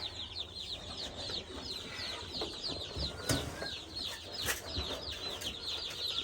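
Young broiler chicks and chickens on a poultry farm cluck and chirp in a busy, overlapping chorus at close range, with occasional wing flaps and brief louder bursts over steady background noise, no talking.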